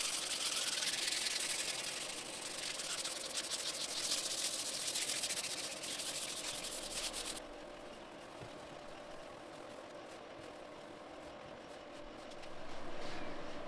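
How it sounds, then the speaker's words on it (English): Power sanding across a wooden farmhouse table coated with dried polyurethane, a steady close whirring hiss with scratchy friction that drops to a quieter, duller tone partway through and swells again near the end. "So, our first coat of poly is dry. Time to sand."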